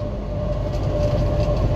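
A loaded freight train rolls past in the Clovis, New Mexico rail yard, with pipe loads, auto racks and tank cars. It makes a steady, loud, continuous rumble and rail drone, with a thin sustained tone above it and no talking.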